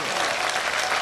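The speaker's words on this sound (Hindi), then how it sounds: "एक बार जोरदार ताली बजनी चाहिए हमारे अनुज के लिए" Dense, steady applause from a large crowd at a Hindu religious gathering and sermon, loud and continuous throughout with no breaks.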